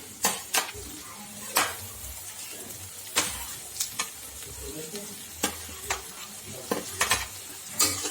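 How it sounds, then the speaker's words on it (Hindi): Onion, then tomato, frying in a pan for a crispy moong dal dosa, with a steady sizzle and repeated spoon-and-pan clinks from stirring, close and clear with no talk. "अब ये देखिए, प्याज हमारा इस तरह से हल्का सा मुलायम होने तक भूनेंगे। अब इसमें डाल देंगे ये हम टमाटर।"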